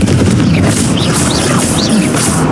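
The Confringo fire spell from Hogwarts Legacy lands as a burst of booming explosions with crackling, whooshing magical effects, loud and dense over a short span.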